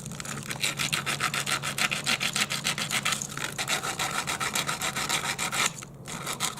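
Sandpaper rubbed briskly back and forth over a filthy, corroded electrical wire while swapping an old ungrounded outlet for a grounded three-prong one, a close, steady rasping scrub of rapid strokes with a brief pause near the end.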